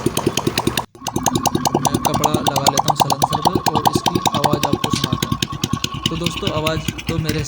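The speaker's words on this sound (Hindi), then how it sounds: "मैं कपड़ा लगा लेता हूँ सलेंसर पे और इसकी आवाज़ आपको सुनाता हूँ।" A motorcycle engine idles with a cloth held over the silencer, giving a steady, rapid pulsing exhaust beat that runs close and loud throughout, broken by one brief drop near the start.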